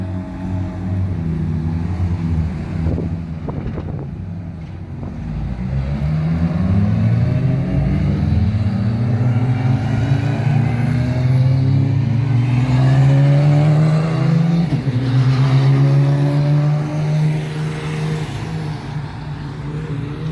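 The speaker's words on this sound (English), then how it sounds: "the new Cup 2 cars of Manthey Racing" Porsche 911 991 Mark II Cup race cars of Manthey Racing driving, engine tones rising and falling as the cars pass, with a loud climbing roar in the middle and a fading drone at the end, no talk.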